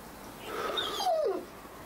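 A dog gives a short, high whimpering yip that rises and then slides downward, fairly close and heard on its own with no talking.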